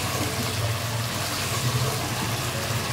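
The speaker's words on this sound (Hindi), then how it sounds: "अब मैं इसमें डालूंगी तकरीबन 1/2 कप पानी।" About half a cup of water is poured into a pot of chicken and cabbage handi cooked with spices, a steady close splashing and trickling that lasts throughout.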